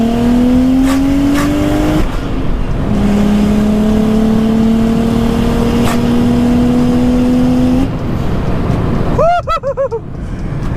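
A BMW 335i with a Speedtech N54 single turbo kit revs hard through an open dump, its loud engine note rising in long pulls through several gears and ending in a sharp burst of whooshing chatter.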